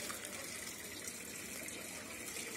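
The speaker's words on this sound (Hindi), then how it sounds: "वीडियो शूट करने के लिए ही मैंने ये फाउंटेन ऑन किया है" Garden water fountain running over a Buddha statue on a terrace garden, a steady continuous gush and splash of flowing water, close and even throughout with no talking.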